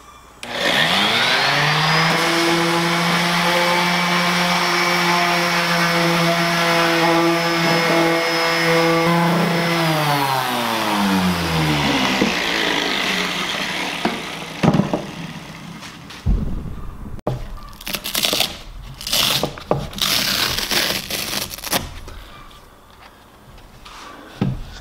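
A power sander runs on a board with red resin sandpaper, a loud, steady whine holding for about eleven seconds before spinning down, followed by scattered knocks and handling clatter.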